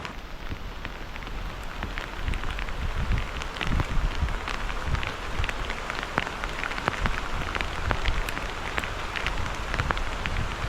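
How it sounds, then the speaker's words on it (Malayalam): Dense, steady downpour of heavy rain drumming on surfaces, loud and continuous throughout with no voices. "മഴയും പെയ്യുന്നു മഴയെന്ന് പറഞ്ഞാൽ ഒരു രക്ഷയില്ലാത്ത മഴ"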